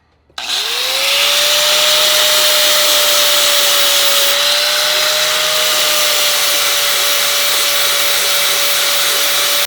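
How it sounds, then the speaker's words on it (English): A grinder fitted with a flat disc spins up on an Evo Dyna oil pan repair and runs loud and steady for the whole stretch, with a constant high whine and broad hiss. "I think I can go back over with a like a grinder or a little flat disc and kind of flatten it out"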